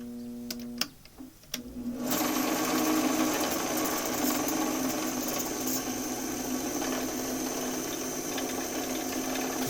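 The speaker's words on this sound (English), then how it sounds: "So I just need enough pressure to hold it in there to run some abrasive over it" A wood lathe spins a turning while abrasive is run over it, a steady, close motor whine with a hissing rub that starts abruptly after a few faint knocks and carries on evenly.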